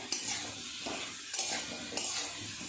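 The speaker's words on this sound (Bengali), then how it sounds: "এইভাবে ভালো করে নেড়ে চেড়ে সমস্ত সবজি মশলা একসাথে এইভাবে একটু কষিয়ে নিলাম" Steady stirring and sizzling of vegetables with spices frying in a pan for a bottle gourd and prawn dish, close and continuous with a few sharper spoon scrapes against the pan.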